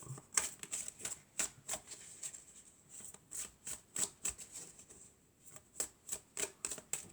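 Tarot cards being shuffled by hand in a quiet room: a run of crisp papery riffles and slaps, close and fairly soft, repeating in quick bursts with short pauses and no talking.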